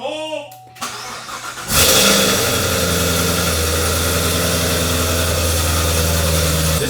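After a brief rustle, a car engine roars to life and keeps running loudly at a steady, rumbling idle.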